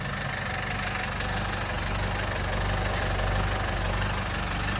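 A Checker 90 truck's engine idles steadily, recorded up close beside the exhaust with a continuous low rumble and faint knocking pulse, no voices.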